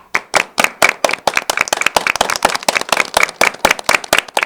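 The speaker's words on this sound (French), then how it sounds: "le public salue cette performance à un grand renfort d'applaudissements" An audience claps for a performance in a competition: sharp, distinct handclaps from a small nearby group, quick and uneven in rhythm, loud and steady throughout.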